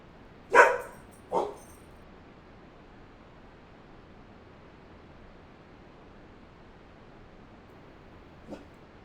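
A dog barks twice in the video game Final Fantasy XIV, two loud close yaps a second apart, then near silence before one faint short yip near the end.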